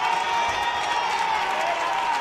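Sustained applause and cheering from attendees at a town council investiture session of Gandia city hall, a dense, steady wash of clapping from a crowd indoors, moderately loud with no break.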